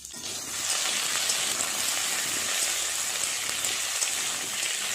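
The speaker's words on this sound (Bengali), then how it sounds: "আলুগুলো ভাজা হয়ে গেছে" Potatoes frying in hot oil, a dense steady crackling sizzle close up, with no talking.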